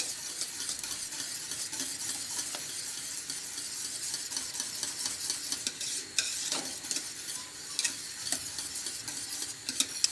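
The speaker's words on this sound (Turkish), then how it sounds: "Bunları iyice karışıncaya kadar karıştırıyorum arkadaşlar." A spoon stirs magnolia pudding mixture with vanilla in a pot on the stove, giving a steady, close scraping and swishing texture with faint sizzle-like hiss and occasional light clinks, no voices.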